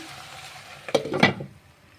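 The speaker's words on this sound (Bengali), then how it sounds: "আলু, ক্যাপসিকাম, কড়াইশুঁটি, জিরে ফোড়ন দিয়ে ভাজছি" Diced potato, capsicum and peas frying in a pan with a cumin tempering, a soft steady sizzle with a couple of louder stirring scrapes in the middle, close and without talk.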